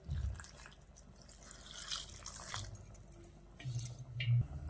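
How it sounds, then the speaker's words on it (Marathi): Water is poured over soya chunks and cauliflower pieces in a kitchen pot, making quiet splashes and drips with a few clinks, faint and close. "आता यामध्ये ना पाणी घालूया"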